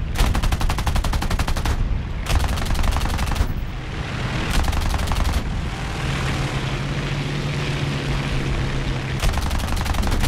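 Aircraft machine guns firing in War Thunder air arcade combat, several long rapid bursts of loud rattling gunfire separated by brief pauses, over a steady engine drone.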